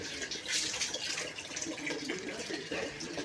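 Water runs from a tap at a village house in the Konkan, a steady close splashing gush with faint background sounds.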